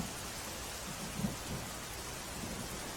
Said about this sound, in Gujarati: ધાનેરામાં વહેલી સવારથી ધોધમાર વરસાદ પડ્યો।